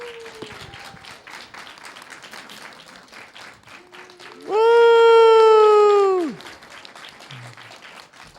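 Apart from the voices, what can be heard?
audience applause for a Tetris finals player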